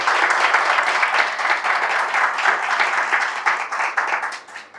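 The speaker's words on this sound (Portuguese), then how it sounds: "Salva de palmas para o meu pai," A lecture audience applauds the speaker's father with dense, steady clapping that holds throughout, close and loud, and fades slightly at the end.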